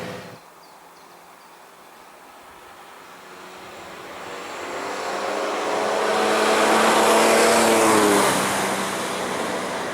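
A 1965 Austin-Healey 3000 classic car passing or accelerating, its engine note building steadily to a loud peak and then easing slightly, heard alone without voices.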